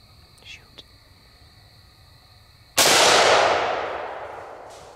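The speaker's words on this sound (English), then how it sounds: "Good shot, Jurnee." A single loud rifle gunshot fired during a youth hunt outdoors, a sharp crack with a long fading echo after faint quiet sounds beforehand.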